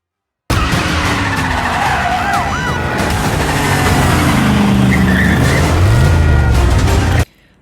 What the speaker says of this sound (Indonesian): Tapi dikejar oleh Paris, polisi, dan CIA.